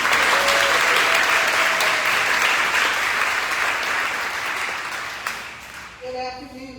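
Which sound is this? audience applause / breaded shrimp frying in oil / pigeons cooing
audience applause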